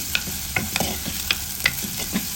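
Sliced onions sizzle in hot coconut oil with fenugreek seeds as a spoon stirs them, a steady frying hiss punctuated by about seven sharp scraping strokes against the pan, close and without talk.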